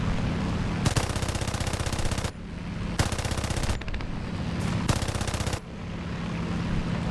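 Machine gun fire from a J8A aircraft in War Thunder, three long rapid bursts of dense, loud rattling shots over a constant engine drone, with short gaps between bursts.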